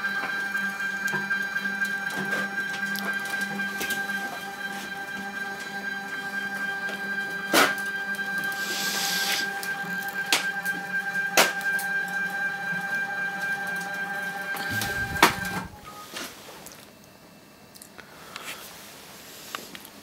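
A home-built CNC machine's table travels along its axis to the far end, a steady mechanical drive hum with faint clicks and a brief thump near the end before it quiets down.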